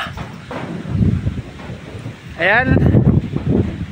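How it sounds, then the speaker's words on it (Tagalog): Gusty wind buffets the microphone in an outdoor setting as a typhoon approaches, a loud, uneven roar under talk from a nearby person. "At lumalakas-lakas na po ang hangin."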